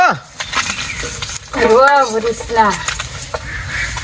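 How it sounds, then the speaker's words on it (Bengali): Fish frying in a pan, a steady low sizzle with a few clinks of utensils. Someone talks over it at close range. "এই যে আমার কটি মাছ ভাজি হয়ে গেছে"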